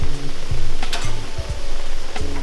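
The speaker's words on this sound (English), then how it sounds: "Let it boil for about a minute or so" Mushrooms boiling rapidly in a pan give a steady close bubbling sizzle, with light clinks and stirring scrapes scattered through.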